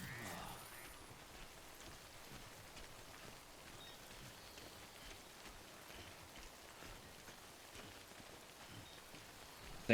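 Steady timefall rain from a video game pours down in a soft, even hiss, continuous and fairly quiet throughout, with no voices.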